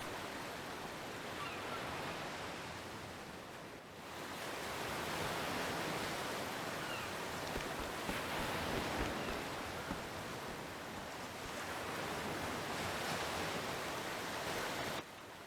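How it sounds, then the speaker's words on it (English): Ocean waves from the video game Octopath Traveler 2 wash in as a steady, full roar of surf, swelling and easing in broad surges with no voices over it. "I hear waves."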